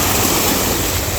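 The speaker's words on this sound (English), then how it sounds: "Some waves, it's like, whoa, it's really coming up." Ocean waves washing over a rocky shore as the tide comes in, a loud, dense, continuous rush of surf heard up close without any voices.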